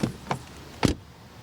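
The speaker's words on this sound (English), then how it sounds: "door closing sound." Door of a Mercedes EQC electric SUV shutting, a few light taps followed by one solid, near thud and a short fade, with no talking.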